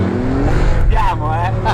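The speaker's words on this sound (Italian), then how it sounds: "Vi faccio sentire questo motore." A carburetted motor runs close by with a steady low rumble and a few rising revs, while people talk over it throughout.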